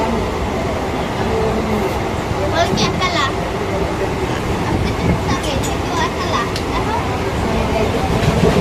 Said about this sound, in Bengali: local train journey